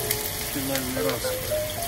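Beef steak sizzles in a frying pan with a steady, close crackling hiss, heard alone without talk.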